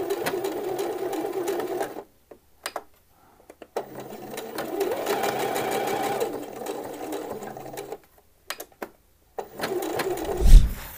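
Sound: sewing machine stitching a men's shirt

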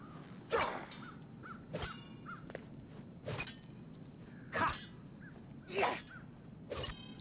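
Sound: crow cawing in video game Warhammer: End Times - Vermintide

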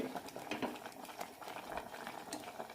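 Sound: cucumber and drumstick leaf curry boiling

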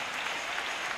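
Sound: applause in church

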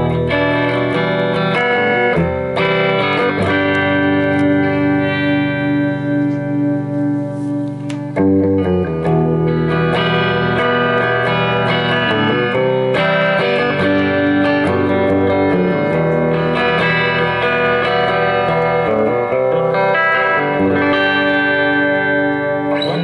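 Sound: electric guitar amp with vintage reverb

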